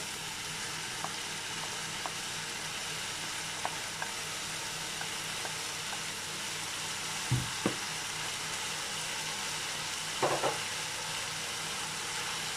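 Meat and carrots for borscht fry in a pot with a steady, close broadband sizzle, broken by a few sharp clanks of a utensil against the metal near the end, and no voices.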